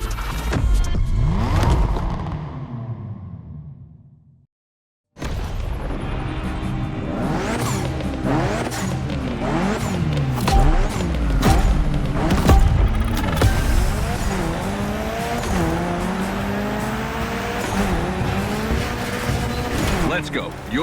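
A Mitsubishi Evo 9 in The Crew Motorfest's Gymkhana event revs hard with sweeping engine pitch swings and tire squeal. It cuts out briefly, then returns and keeps going continuously and loudly with repeated rising and falling revs.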